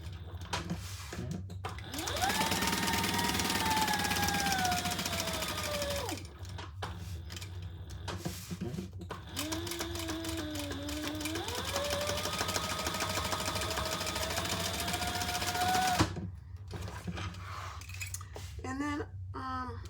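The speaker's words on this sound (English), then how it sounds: "We're going to sew that on" A sewing machine stitches a leather pocket onto the bottom of a leather piece, running in two long, steady bursts of rapid mechanical hum separated by a short pause, close and clear.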